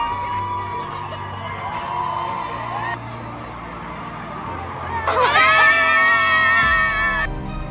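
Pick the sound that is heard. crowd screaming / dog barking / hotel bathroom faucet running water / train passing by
crowd screaming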